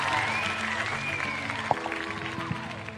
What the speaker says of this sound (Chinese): 用你们的掌声，我们一起把这份礼物送给一博好吗？